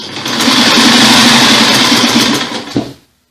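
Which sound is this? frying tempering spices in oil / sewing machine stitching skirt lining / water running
sewing machine stitching skirt lining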